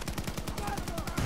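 Repeated gunfire from a video game combat scene involving a recoilless rifle, with rapid evenly spaced shots running through the whole short stretch at steady loudness, like a sustained burst.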